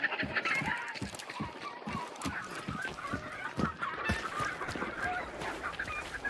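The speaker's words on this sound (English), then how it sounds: "I do hear chickens clucking right about." Chickens clucking in the video game Hunt: Showdown, a busy, steady clutter of clucks and squawks heard from nearby over continuous ambient game noise, with a faint voice underneath.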